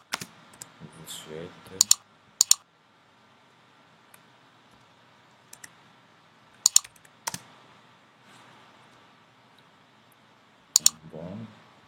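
Keys on a computer keyboard are tapped in short, sparse clusters of crisp clicks while text is typed in Photoshop, with a quiet room and a voice speaking French between the bursts.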